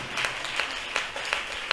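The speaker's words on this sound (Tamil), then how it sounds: "நல்லா கைதட்டி சொல்லுங்க." A church congregation at a Tamil Christian Sunday service claps hands together in a steady, rhythmic beat of broad, bright claps repeating roughly every third of a second, moderately loud and slightly distant, with a faint voice underneath.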